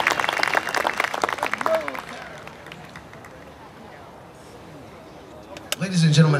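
Concert audience applauding a singer at a soul concert, dense clapping and crowd noise at first that thins out and fades, then a fresh burst near the end with someone talking over it.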